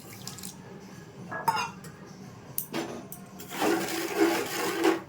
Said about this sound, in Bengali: একটু জল দিয়ে দিচ্ছি হাফ বাটি